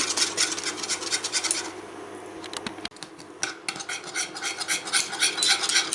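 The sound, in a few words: stirring Catalan cream custard in a pan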